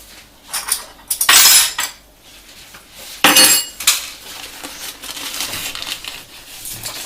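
Metal utensils scrape and clink against a pan as a teaspoon of garlic goes into an Italian-style chicken gratin and gets stirred, with loud bursts of clatter between quieter stretches and no talking.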